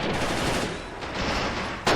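Machine gun fire in the WWII strategy game Men of War: Assault, a dense, steady roar of rapid shots and distant gunfire filling the battlefield, with a sharp louder burst near the end.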